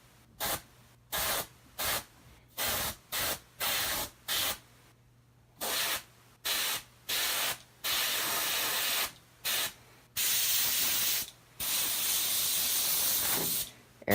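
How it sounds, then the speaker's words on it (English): An airbrush sprays paint in repeated short hissing bursts, about a dozen evenly spaced pulses of one to two seconds, then longer continuous spraying near the end; close and clear with a faint steady hum beneath, no talking. "Airbrush doesn't like to put out paint pointing downward, so I have to stop every now and again and get it working again"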